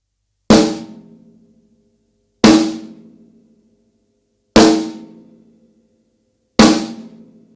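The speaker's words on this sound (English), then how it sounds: "A rim shot is a percussion technique used to produce an accented snare drum backbeat." Four sharp, loud rim shots on a snare drum, the drumstick striking rim and head together, spaced about two seconds apart, each ringing out briefly before silence.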